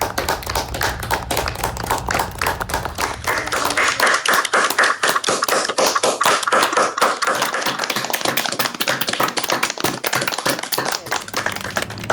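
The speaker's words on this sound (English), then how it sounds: "your faculty are eager to show their pride and celebrate your accomplishments through their applause" Faculty applaud graduates at a community college commencement ceremony, a long, loud, steady patter of many hands clapping that fills the whole stretch.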